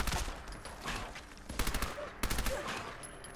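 Bursts of gunfire in the video game Fallout London, a sustained crackling volley followed by two sharp clusters of rapid shots, loud and close.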